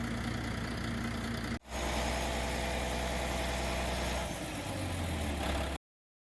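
An International truck engine idles steadily with a deep, continuous rumble, briefly cutting out for a moment before settling back into its loud, even drone.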